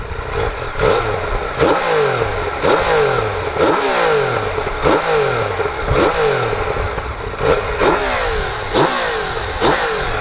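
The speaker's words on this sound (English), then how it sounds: "This bike actually revs up very quickly as well" A 2016 Yamaha XSR900 motorcycle engine revs repeatedly to about 6,500 RPM, about ten quick rises and drops in pitch in a steady rhythm, loud and close with mechanical clatter.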